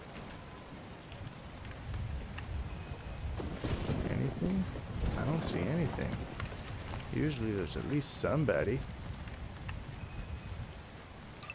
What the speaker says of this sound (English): Oh no, it is raining.